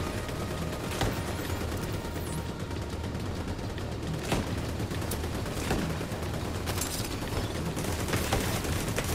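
Gunfire in the shooter The Division 2 at a research-lab mission: scattered sharp shots and short volleys crack over a dense, steady combat din, some close and loud, others more distant.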